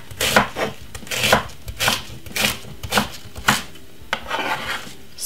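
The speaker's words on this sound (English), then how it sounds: "So I'm gonna cut the next pieces." A knife chopping cabbage pieces on a board, with about eight sharp, rhythmic cuts at a steady pace, each giving a crisp crunch and a short rasping slide, close up.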